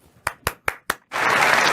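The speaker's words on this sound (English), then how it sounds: "You're applauding" Audience applause: four sharp separate claps ring out in a steady rhythm, then a dense, loud burst of many hands clapping together takes over and carries on.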